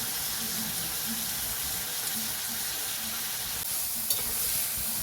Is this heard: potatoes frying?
yes